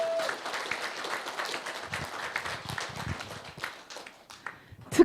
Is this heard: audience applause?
yes